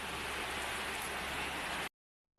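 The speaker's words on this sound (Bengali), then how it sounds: "তো দেখুন একটু বৃষ্টিটা দেখে নিই" Steady rain keeps up an even, hissing wash of drops that cuts off abruptly near the end, leaving a brief silence.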